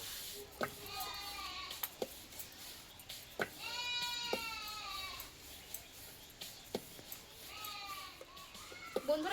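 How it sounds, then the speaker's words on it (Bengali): Goats in the neighbouring houses of a small, crowded home bleat in repeated loud cries. A few calls overlap with sharp knocks and clatter in between, heard nearby with no talk over them. "এখানে দেখো পাশে ছাগল চিৎকার করছে"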